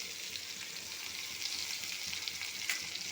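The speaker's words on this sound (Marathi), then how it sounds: "आता फ्लेमवरती चांगला परतून घेऊया कांदा गुलाबी होतो" Onion and tomato sautéing in a pan over a flame, a steady close sizzle with soft stirring scrapes, even and uninterrupted throughout.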